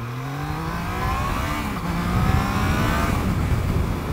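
A 2021 Triumph Trident motorcycle accelerates up to 60, its engine note rising through the gears with a brief dip at a shift, heard loud and steady amid road and wind rumble.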